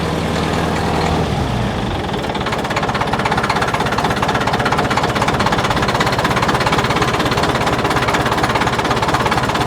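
A CAT wheel loader parked for ten years cranks over and catches, its diesel engine settling into a loud, steady, rough-running chug that holds without a break.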